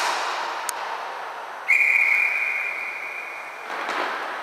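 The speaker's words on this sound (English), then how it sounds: "Maybe they just like blowing their little whistles." A referee's whistle sounds during a hockey game: one shrill sustained blast of about two seconds, clear above a constant wash of rink crowd noise.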